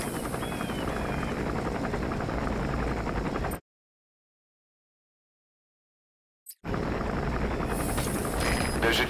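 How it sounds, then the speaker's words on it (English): A helicopter gunship lands in Metal Gear Solid V: The Phantom Pain. Its dense, loud rotor roar plays for a few seconds, cuts to near silence for about three seconds, then returns at the same level. "There's a chopper landing."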